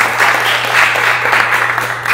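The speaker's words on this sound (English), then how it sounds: "So another big round of applause, please," A church congregation at a Sunday service claps in a dense, steady burst of applause heard close and fairly loud, with no voices over it.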